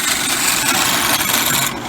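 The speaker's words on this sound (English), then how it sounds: "we're now ready to drill" A drill bores into a wooden whistle blank held against a block, producing a steady, loud grinding rasp that runs continuously for about two seconds with no voices.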